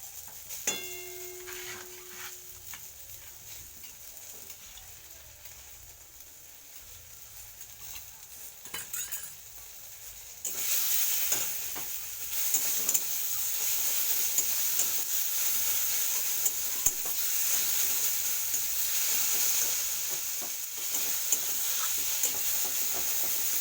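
Spice masala goes into fish oil already frying in a pan. A soft hiss with occasional utensil clinks jumps to a louder, sustained sizzle as it is added and stirred.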